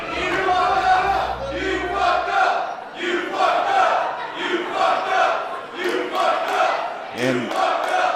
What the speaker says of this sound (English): the crowd is chanting at Campaign what I would be thinking if I was standing there in his shoes